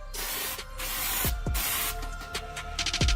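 A spray can lays down a light coat of paint in several short hissing bursts separated by brief pauses and clicks, close to the ear, with a rapid rattling stutter at the end.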